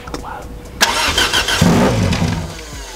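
A turbocharged 1ZZ engine in an MR2 Spyder cranks on the starter and then fires into a loud, rough running note, with excited voices talking over it.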